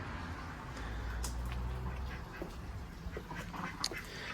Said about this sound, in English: we've got the chickens and we've got the ducks